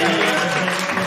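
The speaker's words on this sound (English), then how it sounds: "round of applause for you guys for showing up" A brief burst of audience applause at a live casting director panel at the Sundance Film Festival: dense, even clapping from a crowd filling about a second, with some voices mixed in.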